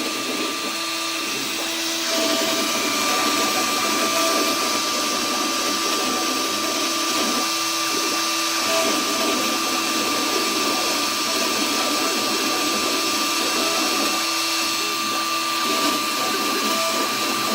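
X-Carve CNC router spindle whines steadily while carving a Coast Guard plaque, a continuous loud motor drone with faint periodic shifts as the bit moves between sections.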